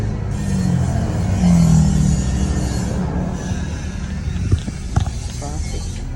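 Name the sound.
rush hour road traffic in Baguio City, Philippines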